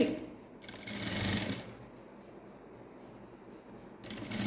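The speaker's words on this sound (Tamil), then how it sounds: "ஸ்டிச் பண்ணிகிட்டே வரப்போகிறேன்" A sewing machine stitches a net-neck blouse on canvas backing cloth in two short whirring runs, the first longer and louder, separated by a quiet pause.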